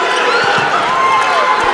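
A basketball arena crowd roars loudly in a sustained wave of cheering and shouting during a close college game between Liberty and Sam Houston, a dense, continuous swell of voices filling the whole moment.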